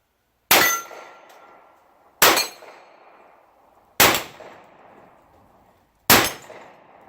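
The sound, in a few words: rifle shots hitting steel targets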